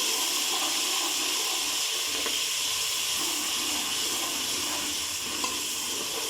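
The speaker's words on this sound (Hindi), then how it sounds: "अब इसमें लहसुन अदरक का पेस्ट डाल देते हैं।" Garlic-ginger paste hits browned onions frying in a pan for chicken palak, producing a loud, steady hissing sizzle that holds evenly throughout with faint scraping underneath.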